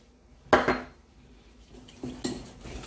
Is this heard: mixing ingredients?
yes